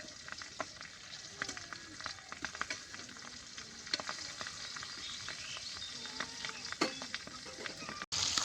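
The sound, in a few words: pangas fish frying in a pan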